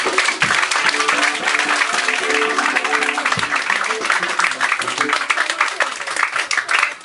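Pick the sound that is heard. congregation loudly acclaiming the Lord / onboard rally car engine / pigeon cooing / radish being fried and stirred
congregation loudly acclaiming the Lord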